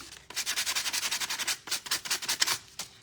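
Rapid back-and-forth sanding strokes rasp close up on a thrifted chicken figure, a steady scrubbing rhythm of short bursts lasting about three seconds with no talking.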